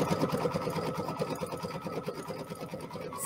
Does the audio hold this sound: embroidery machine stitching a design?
yes